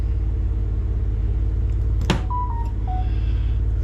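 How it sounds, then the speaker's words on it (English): A Fish Brain app notification on a phone during a catfishing trip: a sharp click followed by a few short, clear electronic tones over a steady low rumble. "Uh-oh, my phone's going off."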